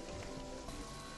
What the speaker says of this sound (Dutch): Zolang het maar blijft regenen is het goed.